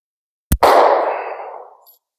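A SCCY CPX-2 pistol fires a single sharp report, followed at once by a ringing metallic echo that fades over about a second, fitting a shot striking a steel plate from a distance.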